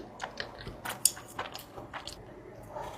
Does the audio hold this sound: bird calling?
no